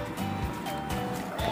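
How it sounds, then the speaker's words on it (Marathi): Water pouring into spiced rice in a pressure cooker for egg pulao, a short liquid splashing and gurgling run that stays steady and close. "आपण आता यात पाणी ऐड करू"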